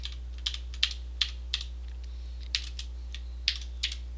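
Typing on a computer keyboard: about a dozen crisp, close key clicks in irregular bursts with short pauses, over a steady low electrical hum, no voices.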